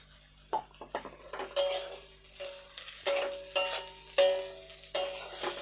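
A spoon stirs fried beans and cashews into rice in a pan, giving intermittent scraping and clinking strokes against the metal with soft sizzling between them, close and fairly quiet.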